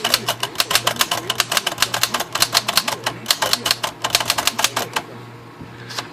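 A Remington portable typewriter with large primary type style is typed steadily in rapid clattering bursts of keystrokes, loud and close, with brief pauses and a final carriage sound near the end.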